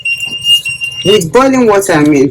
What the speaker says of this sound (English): It's one of the alarm that indicates the amount of carbon dioxide you have in the air